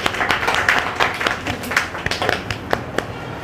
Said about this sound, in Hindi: इसके लिए आप लोग एक बार पुनः तालियां बजाइए।